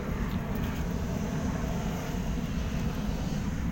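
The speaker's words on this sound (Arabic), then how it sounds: "الصوت ديال الطيارة اللي دايزة الفوق" Overhead airplane passing above a seaside café in Antalya, heard as a steady, loud low-frequency roar that holds throughout with no talk.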